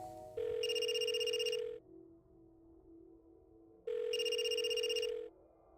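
A telephone rings in two long electronic bursts separated by a pause, loud and clear with nothing else over it.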